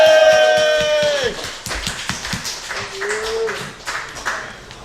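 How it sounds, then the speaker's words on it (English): Comedy club audience claps and cheers as a comedian is introduced, with loud, close, uneven clapping bursts following a brief tonal sound at the start. "Give a huge round of applause for Mike Robinson!"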